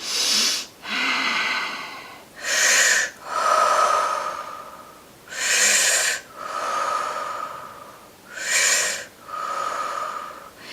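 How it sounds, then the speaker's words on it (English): Deep, slow breaths are taken close up, each long airy inhale followed by a long exhale through the nose, repeating evenly about every two seconds with a faint wheezy rasp. "if you take a conscious inhale and exhale, but I mean really good"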